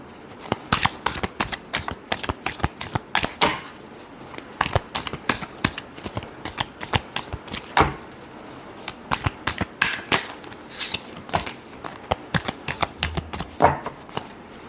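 Tarot cards are shuffled by hand at close range, giving continuous rapid riffling flutters and snaps for a long stretch, with no one talking over them.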